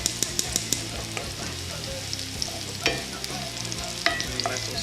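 Cooked, translucent onions are stirred in a pan with the heat just turned off, giving a steady close scrape and clatter of utensil against pan over a soft oily sizzle, with a few sharper knocks.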